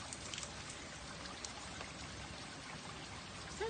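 Clear spring water from high on a mountain trickles and pours in a soft, steady wash, faint and continuous with a few small splashes and no voices.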